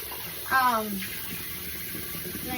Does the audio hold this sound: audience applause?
no